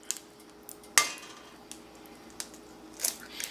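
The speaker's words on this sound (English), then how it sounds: "I'm going to use the side of the pan as a wedge as I smack the egg and crack the egg open on it" An egg smacked and cracked open against the side of a pan, one distinct close knock followed by a few softer taps and clicks in a quiet kitchen.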